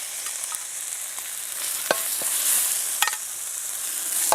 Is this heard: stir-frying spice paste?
yes